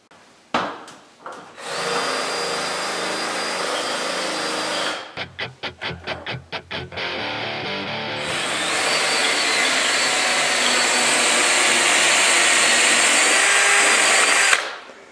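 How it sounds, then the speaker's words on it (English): A power drill drilling holes for coral frag plugs whirs steadily, then stutters in short pulsing bursts before spinning up again into a loud, continuous high-pitched whine. "drilling frag plug holes"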